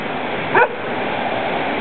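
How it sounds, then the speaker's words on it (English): A puppy gives a single short yip, fairly close, against a steady background hiss with no talking. "Is there a puppy dog?"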